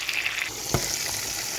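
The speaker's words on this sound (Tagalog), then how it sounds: "olive oil ang gamitin natin panggisa para healthy" Vegetables sautéing in olive oil with tomato and onion in a pan, a steady close sizzle and hiss with a brief stir or clatter near the middle, no voices.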